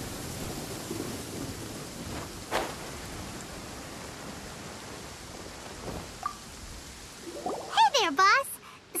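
Heavy rain downpour in Genshin Impact, a steady dense wash of rainfall throughout, with a low rumble and a brief rising game chime near the end.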